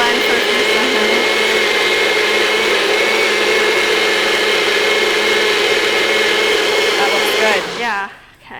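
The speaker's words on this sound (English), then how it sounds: "Gotta let it blend for a few seconds." Kitchen blender whirring through a raspberry smoothie, a loud steady motor hum with a shifting whine that holds for several seconds before spinning down near the end.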